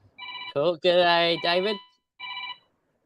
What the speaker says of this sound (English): Yeah, that's my phone ringing.